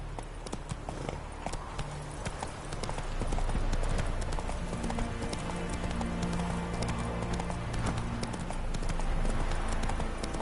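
Roach's hooves clip-clop steadily in The Witcher 3 on Death March difficulty, a dense, continuous trot that gets louder partway through and stays near and busy over low ambient rumble.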